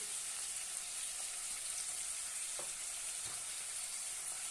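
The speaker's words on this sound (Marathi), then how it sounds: "थोडासा गरम मसाला छानपैकी परतून घेऊया" Okra and potato with spices and garam masala frying in a pan, a continuous close sizzle with a few faint stirring scrapes, no voices over it.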